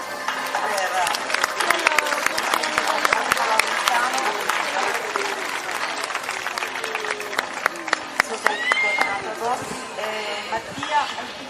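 Crowd applause rings out at a horse show in Oristano, Sardinia, with scattered loud claps. An announcer's voice and whistles carry over it, and faint hoof sounds come through underneath.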